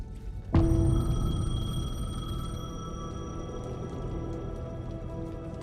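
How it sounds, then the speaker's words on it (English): A payphone ringing in the video game Alan Wake 2, starting abruptly with a loud electronic tone and sustained harmonic ring that slowly fades over several seconds, with no voices. "The payphone was ringing."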